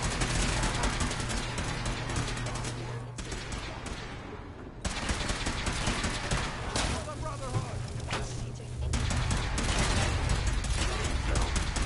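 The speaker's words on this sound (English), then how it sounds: "Engaging hostile gunfire." Gunfire in the video game Fallout 4: dense, continuous volleys of rapid shots that crackle and boom throughout a firefight, with brief dips, and voices talking beneath the shooting.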